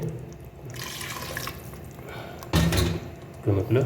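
Water pours into a pot for Ambur mutton biryani, a steady stream running for a few seconds followed by louder clanks of metal cookware, with a voice heard faintly.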